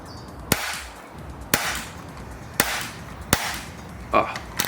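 An air rifle fires H&N lead pellets in four sharp, evenly spaced cracks, each trailing a brief ringing impact, with a quiet voice faintly audible near the end.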